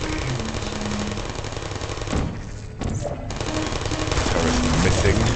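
Automated turret in the video game Portal firing in a dense, continuous rapid-fire stream of shots, loud and close, briefly breaking off in the middle before resuming.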